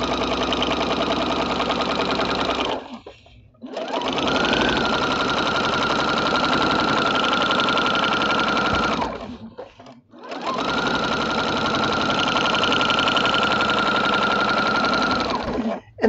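A sewing machine fitted with a walking foot stitches through quilt layers in loud, close, even bursts, running several seconds at a time with two short pauses between runs.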